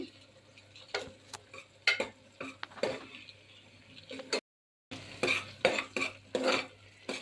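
A spoon scrapes and clinks against a pan as ground spices such as turmeric, coriander powder and chili powder are roasted for a whole moong kadhi, giving a close, irregular run of taps and scrapes broken by a short silent gap.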